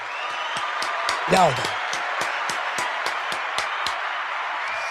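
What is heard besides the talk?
audience applause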